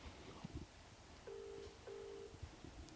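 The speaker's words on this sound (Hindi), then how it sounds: "अभी मैं एक बार कॉल कर लेती हूँ" An outgoing phone call rings out with a faint ringback tone: two steady tone bursts, each under half a second, over quiet background noise.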